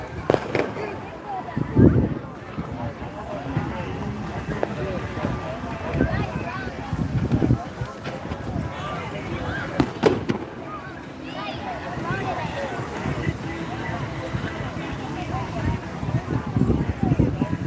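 Fireworks burst over the beach at Destin, Florida, with several louder booms at intervals over a steady rumble of surf and wind, and voices murmuring in the background.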